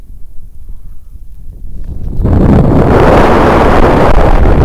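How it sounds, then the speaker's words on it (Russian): Wind blows hard against the microphone by the Volga River during winter ice fishing, starting as a low rumble and swelling into a loud, steady roar from the middle onward. "Дует ветер."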